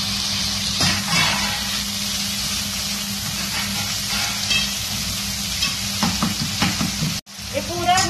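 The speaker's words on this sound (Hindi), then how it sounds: "उसमें टमाटर डालेंगे और टमाटर को भी अच्छी तरह से भूनेंगे" Tomatoes frying in oil with garlic, ginger and chilli paste for a chicken curry, a steady close sizzle with occasional stirring scrapes and a brief sharp dropout near the end.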